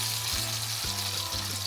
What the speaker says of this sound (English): Now the pan is hot, so we need to put the aubergine.